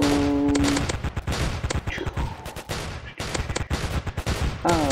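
Golden pistol gunfire in the Roblox game Zombie Attack, a rapid run of sharp game shots fired in quick bursts with short gaps, loud and close, with no talking over them.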